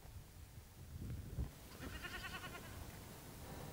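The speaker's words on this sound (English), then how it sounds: "There are a few goats on the hillside" A few goats bleating on a hillside near a mud-brick village in Afghanistan, a couple of wavering calls at moderate distance over a low rustling background.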